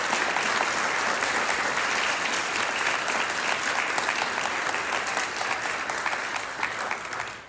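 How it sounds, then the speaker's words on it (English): Sustained applause from a large audience at a high school graduation convocation for seniors, steady dense clapping throughout that tapers slightly at the end. "Let's give these seniors a round of applause."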